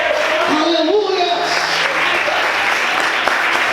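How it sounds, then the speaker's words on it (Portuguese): A church congregation applauds steadily throughout, a dense wash of clapping with a voice rising and falling over it near the start, probably a preacher or someone shouting out. "Você pode aplaudir e exaltar a Deus por isso."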